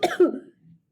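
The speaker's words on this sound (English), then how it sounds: "Walter started coughing again." Someone with a burning throat gives a short, hoarse cough, two quick close bursts followed by a faint trailing rasp, alone in quiet surroundings.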